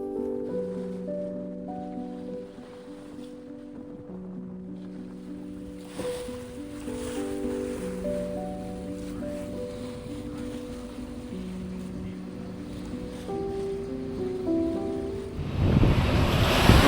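Ocean swell and waves wash around a boat passing through a tidal rip between islands, a steady rushing and sloshing under wind noise, overlaid by a held tonal hum, with a louder surge of water near the end.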